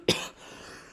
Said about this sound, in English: Before I got interrupted there by the cough.